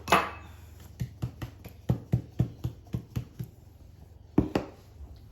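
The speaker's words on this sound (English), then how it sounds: "And we knead it just for a short amount of time" Damper dough being kneaded by hand on a floured board, a series of sharp dull thumps and slaps in an irregular rhythm, close and clear with a quiet pause before one last heavier thump.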